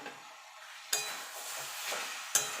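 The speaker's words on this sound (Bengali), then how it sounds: "দিয়ে ভালো করে নাড়াচাড়া করে নেব।" Vegetarian cabbage curry with slit green chillies stirred in a pan: quiet sizzle and scraping, with two sharp utensil clacks against the pan.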